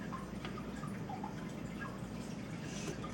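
Water is poured from a cup into a well of flour in a kitchen while making dough, a faint continuous trickle and splash heard alone with low background hum.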